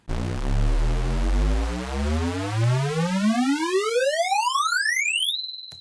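A synthesizer riser from an oscillator in the Transit plugin sweeps steadily upward in pitch, bright harmonics climbing over several seconds before settling on a sustained high tone, then cutting off.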